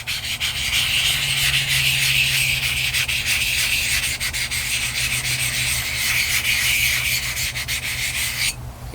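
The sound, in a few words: Nagura stone rubbed on a whetstone to clean it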